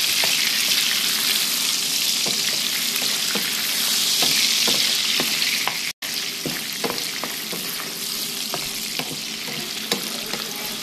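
Potatoes sizzle in rendered bacon fat with no added oil, a loud continuous crackle with frequent sharp pops and spits throughout, briefly cut out once partway through, no voices.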